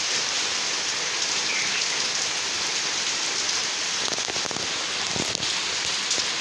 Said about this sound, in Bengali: আজকে সকাল থেকে বৃষ্টি, বৃষ্টির কোনো শেষ নেই